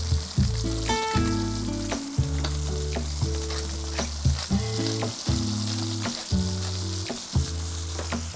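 Thin coho salmon fillets fry in a hot pan, giving a constant close sizzle with scattered pops and crackles that holds steady the whole time, with no voices over it.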